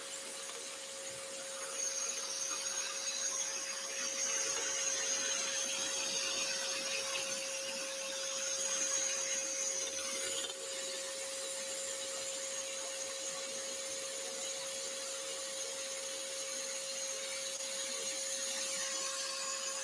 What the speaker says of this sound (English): just going to turn off my extractor